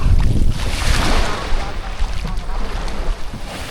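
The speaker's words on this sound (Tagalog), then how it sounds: "Kahit na malakas ang alon guys" Strong waves wash against the shore of Buyayaw Island, forming a steady, loud, broadband roar mixed with wind buffeting the microphone, continuous throughout with no pauses.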